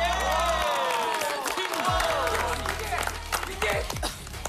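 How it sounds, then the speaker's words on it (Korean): Welcoming applause and cheering from a studio audience on the Korean variety show Knowing Bros, with excited shouting voices and bright, rising tones layered over the clapping throughout. "다시 한번더 축하하고 환영의 박수!"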